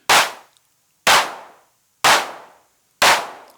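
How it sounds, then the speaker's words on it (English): Four evenly spaced electronic claps from a Hexinverter Mutant Clap drum module with a longer decay, each sharp hit fading through a noticeable reverb-like tail before the next. "So as you can hear, there's more of a reverb tail in there now."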